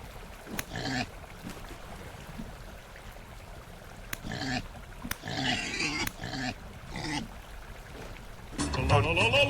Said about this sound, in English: Okay, there's a pig.